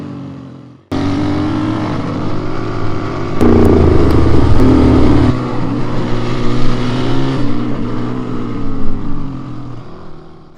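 A motorcycle rides near Mandvi Beach in Kutch, its engine starting abruptly and droning loud and close, swelling as it revs mid-way, then settling into a steady running rumble with wind noise.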